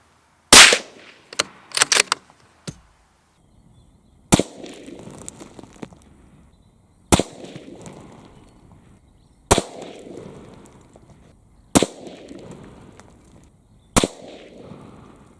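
A Mauser M18 Pure rifle in .308 fires several sharp, loud shots, a quick cluster early on and then single reports spaced a couple of seconds apart, each followed by a short rumbling echo outdoors.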